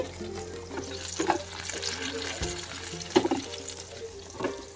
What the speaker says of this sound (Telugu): ఇలా మధ్య మధ్యలో చూసుకుంటూ ఫిష్ పీసెస్ని ఫ్రై చేసుకోవాలి